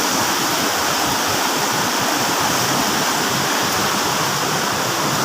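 A river stream flowing steadily downhill through forest, a dense continuous rush of water close by, loud and unbroken with no voices.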